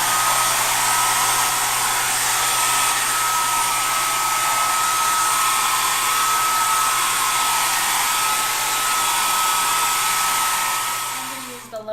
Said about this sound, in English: I'm going to use a hairdryer across it.